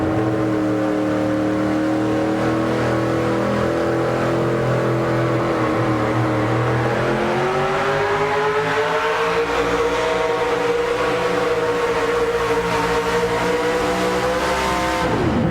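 A 4WD pulling truck, the Lean Meat Machine, roars at full throttle during a 2007 PPL truck pull at Goshen, Indiana, its loud engine holding a steady high rev with rising and falling pitch sweeps throughout.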